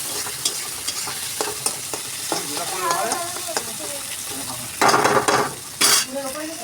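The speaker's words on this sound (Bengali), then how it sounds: "পেঁয়াজটা হালকা লাল করে ভেজে নেবো" Onions fry in hot oil in a pan, giving a steady close sizzle with stirring scrapes and clinks throughout and a couple of louder hissing bursts near the end.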